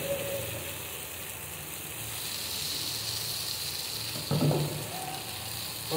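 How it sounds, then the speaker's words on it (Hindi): Paneer tipped into a pan of vegetables already cooking, a soft continuous sizzle that swells into a brief louder burst of frying and clatter near the end, close and fairly quiet, with no talking. "अब इन सब्जियों में डालेंगे हम पनीर"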